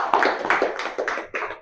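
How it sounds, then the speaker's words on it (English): Audience clapping at an academic talk on postgraduate scholarship and grants, a brief burst of uneven claps from a modest crowd, fairly close and steady for under two seconds. "I think we will clap."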